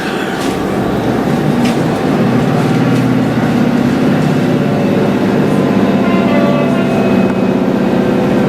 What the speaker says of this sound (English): That sounds like a freight train going the other way.